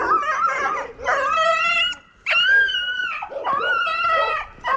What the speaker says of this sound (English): You have to pass these dodgy dogs.